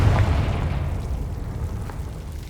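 A Confringo spell blast in Hogwarts Legacy: a loud, deep booming explosion at the start that rumbles and slowly fades, with a faint crackle later.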